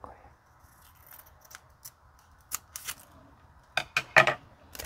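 Scissors snip through paper to cut dragonfly wings for an origami craft, a scattering of short crisp snips that bunch into quick clusters near the end, close and distinct under a quiet background.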